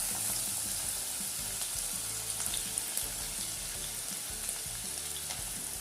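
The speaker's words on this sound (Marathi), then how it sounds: "त्यानंतर मी हे बारीक चिरलेले कांदे टाकते।" Finely chopped onions frying in hot oil with cumin and garam masala for a spicy chicken curry, giving a steady close crackling sizzle throughout with small spits and pops, no voices.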